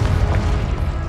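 Confringo spell cast in Hogwarts Legacy: a loud, dense, booming blast with heavy low rumble, sustained and close for about a second.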